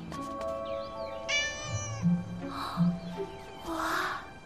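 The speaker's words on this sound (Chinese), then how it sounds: "好可爱的小猫咪，不会是在说它吧？" A small kitten meows several times in short, fairly clear calls, heard close over a background of soft ambient tones.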